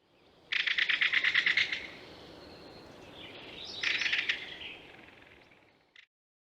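A bird on a New Orleans bayou gives a distinct, penetrating rattle call, a loud rapid burst of rattling notes followed by a second, fainter rattle against a soft background of insects and ambient noise.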